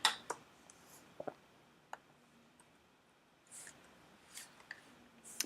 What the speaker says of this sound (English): Not good at typing today.